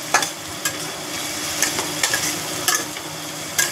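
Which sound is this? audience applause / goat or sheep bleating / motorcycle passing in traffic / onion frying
onion frying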